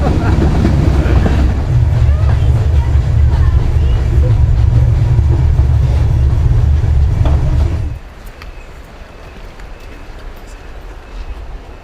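A small train rumbles loudly along the rails through tropical forest toward the Devil's Throat falls in Argentina, with a steady rolling clatter, then the noise drops off sharply, leaving quieter ambient sound.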